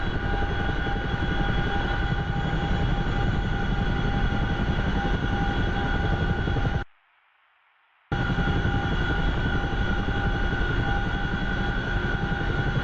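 Steady, dense rotor and turbine drone of a Chinook helicopter in the DCS flight simulator, loud and unbroken apart from a brief gap of near silence partway through.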